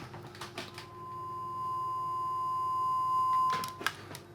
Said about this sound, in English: I can hear a continuous sine wave.